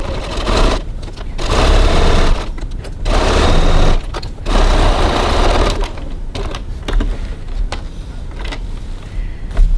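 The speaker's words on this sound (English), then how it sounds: "now we're going to stitch the bottom of our bag, the exterior base pieces together" A sewing machine stitches the exterior base pieces of a cross body bag together with a 1 cm seam at stitch length 2.4. Loud bursts of rapid mechanical whirring come with short pauses between runs.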